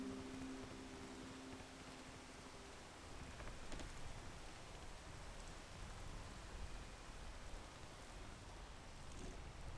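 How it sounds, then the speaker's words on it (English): Steady soft rain falls in the video game Peak, a faint continuous wash of drops with no talking and no distinct thunder. "Did they like fix the rain?"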